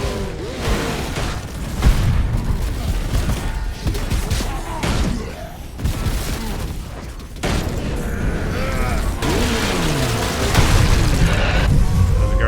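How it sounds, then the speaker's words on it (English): Grenade blasts and heavy booms go off in Warhammer 40,000: Space Marine Remastered, several loud bursts spread across a sustained din of combat noise, with a little talk. "The grenade gonna kill me."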